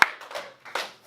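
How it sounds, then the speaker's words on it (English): Two separate hand claps from a classroom, sharp and close, the first right at the start and the second about three quarters of a second later, with a faint voice between. "Hey, 2 claps."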